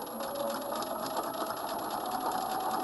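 A sewing machine stitches a coat with a continuous, even mechanical hum and rapid needle rhythm, close and alone.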